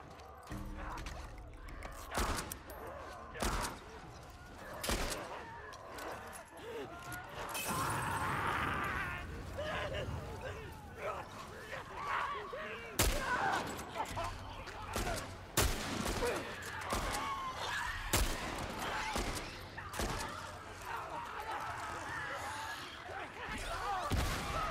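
Gunfire in The Last of Us at a hydroelectric dam, a string of sharp, loud shots spaced irregularly through a tense stretch, with rumbling game ambience and occasional voices underneath.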